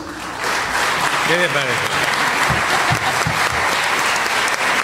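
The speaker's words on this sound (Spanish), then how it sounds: "vamos a recibir con un fuerte aplauso al padre John Sobrino" Audience applause breaks out to welcome Father Jon Sobrino at a university lecture on Latin American martyrs, with steady clapping filling the room throughout and a brief voice speaking near the start.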